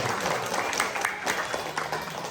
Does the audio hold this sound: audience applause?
yes